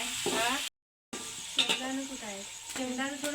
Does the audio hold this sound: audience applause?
no